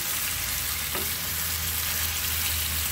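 Jamaican curry chicken sautés in a pan with a steady, dense sizzle that holds at an even level throughout, close and continuous, with a faint low hum underneath.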